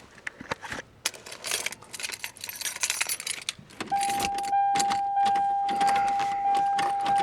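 Keys jangle close by while a 1991 Toyota Cressida's steering wheel is unlocked, a bright metallic rattling in repeated bursts. Partway through, a steady electronic chime starts and keeps sounding under the jingling, with no talk.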